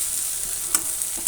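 Kothu parotta being stirred in a frying pan with chicken masala, a soft steady sizzle with two brief scraping clicks of a utensil against the pan near the end.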